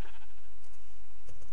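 A sheep in the farming game Village Island gives a single short bleat, close and fairly loud over a steady hiss, with no talk.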